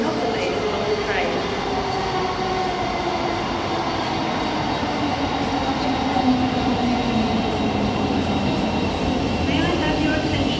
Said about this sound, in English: Departing now is your attending service bound for Luton